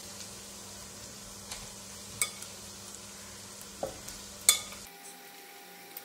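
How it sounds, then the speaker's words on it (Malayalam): Boiled rice goes into a pan for stir-frying chicken fried rice: a soft steady sizzle sits under occasional sharp scrapes and clinks of a utensil against the pan, then the frying noise suddenly drops away. "ഇതിലേക്ക് നമ്മൾ ബോയിൽ ചെയ്ത് വെച്ചിരിക്കുന്ന റൈസ് ആഡ് ചെയ്യാം."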